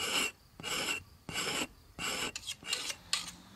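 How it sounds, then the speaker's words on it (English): Hand scraping of a leather hide's surface with a sharpened tool during brain tanning: a series of rhythmic rasping strokes, about eight in quick succession, close and fairly quiet. "Next step is scraping the surface."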